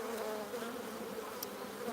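Honey bees buzz at an open hive during a nuc transfer, a dense, steady droning hum close by with no voices.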